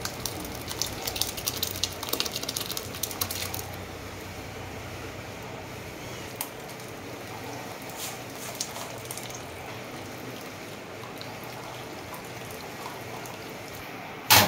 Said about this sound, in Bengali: ছানাটা কেটে গেছে, এবার আমি এটা ঢেলে নেবো।